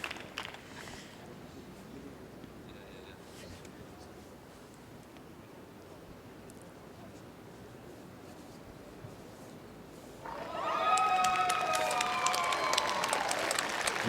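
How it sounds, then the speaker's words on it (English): Crowd cheering breaks out at a Glasgow 2014 Commonwealth Games bowls venue as Northern Ireland's women's pair win bronze, rising suddenly from a low, steady background murmur into a loud burst of applause and cheers near the end. "You might have heard the cheer in the background."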